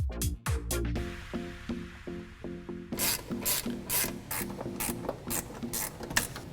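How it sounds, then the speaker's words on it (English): A ratchet wrench backs out the valve cover bolts on a Ford F-250 engine, giving close, rapid mechanical clicking in short repeated bursts with metallic rasping and no talking. "Now we're going to remove the 5 1/2 inch bolts that secure the valve cover."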